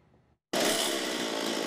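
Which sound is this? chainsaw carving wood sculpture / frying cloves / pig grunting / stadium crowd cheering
chainsaw carving wood sculpture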